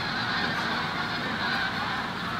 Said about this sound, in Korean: 새들이 떼창을 하고 있습니다